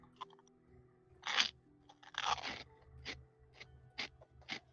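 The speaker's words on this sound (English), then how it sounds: "He's eating pork skin. Delicious. Crackling." Pork skin cracklings are crunched in someone's mouth, a series of crisp bites and chews spaced irregularly, close but fairly quiet, with no speech.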